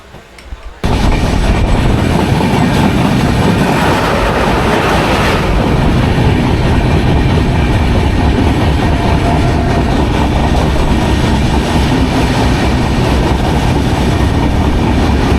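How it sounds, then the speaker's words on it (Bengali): Darjeeling Mail passenger train pulling away and running on rails after a short quiet start, a loud steady rumble of wheels and carriages with faint clickety-clack rhythm throughout. "এখন এই ট্রেন ছেড়ে দিবে।"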